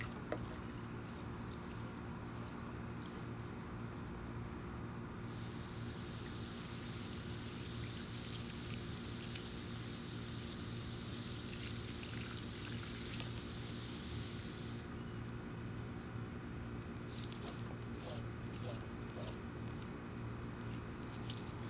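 Water flushes through a clogged AC drain hose with a steady rushing hiss that swells louder through the middle, then eases back to a low continuous flow, close by and with no talking.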